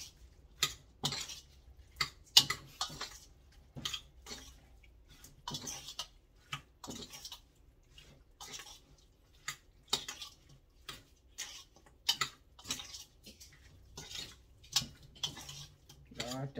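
Food being mixed in a bowl with metal utensils while preparing bánh canh giò heo: quiet, repeated clinks and scrapes in a loose, steady rhythm, close by, with no talking.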